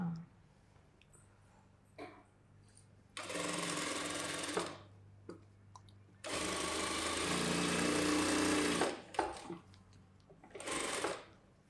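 Sewing machine stitching the back neck of a boat neck blouse, running in three separate bursts of steady whirring separated by quiet gaps with faint handling sounds, close by; a voice talks softly in places.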